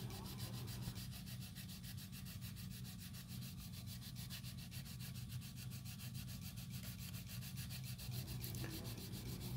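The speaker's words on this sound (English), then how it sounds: "By changing the direction of your sanding, it greatly speeds up the time of sanding." Sandpaper rubs steadily across an RC car hardbody, a Blitzer Beetle shell, during scratch repair. The close, even, scratchy strokes continue without a break, with no talking.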